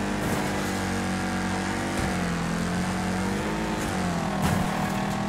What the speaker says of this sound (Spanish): Maldito coche de carreras